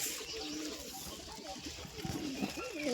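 Pigeons, including a white one, coo in a loose series of low, wavering calls close by, mixed with other sounds and a voice talking.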